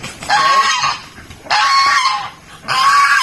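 Loud, harsh honking calls from ducks in three bursts separated by short pauses, close by with no talking.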